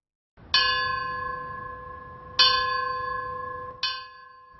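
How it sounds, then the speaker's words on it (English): Three tolls of a church bell mark the start of a 9/11 memorial ceremony at Civic Plaza in Albuquerque. Each strike rings out clearly and then hums away slowly, with no voices in between. "Somber bells toll began the ceremony."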